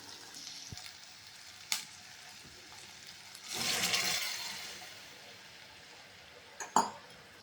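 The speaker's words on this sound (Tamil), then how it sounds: "இப்போ நம்ம பட்டாணி போட போகிறோம்" Peas drop into frying masala for paneer peas butter masala, setting off a quiet swell of sizzling in the middle, framed by a few soft clinks and taps of a utensil against the pan.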